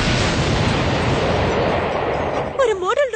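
A cartoon model rocket crashes in a loud, sustained roaring explosion of dense noise, which drops away at the end as a voice briefly comes in.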